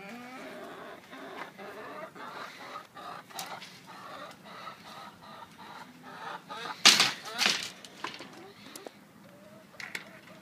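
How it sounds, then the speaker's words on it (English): A brooding hen clucking softly in a backyard pen, low murmuring clucks scattered through the clip with a louder, sharper burst near the middle, faint and close with light background noise. "That's a good chicken."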